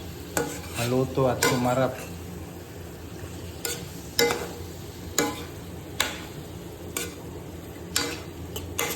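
Spoon stirring adobo in a cooking pan, a series of sharp scraping clicks at a steady pace over a soft sizzle, with brief speech in Tagalog near the start.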